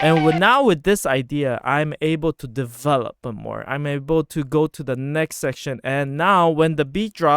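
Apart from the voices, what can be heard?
No everyday noise stands out behind the speech.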